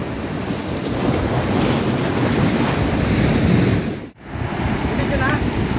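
Big ocean surf breaks along the shore at a Salalah, Oman fishing spot, a steady loud wash with heavy wind buffeting the microphone and a brief dropout near the end.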